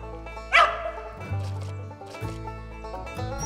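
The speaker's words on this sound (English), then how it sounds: "Looks like Copper's treed." A hunting dog barks sharply at a squirrel up a tree on a cold day, one loud bark followed by fainter yips and barks spread over a few seconds outdoors.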